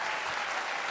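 Steady clapping from a comedy show audience, a dense, even burst of applause filling the whole moment.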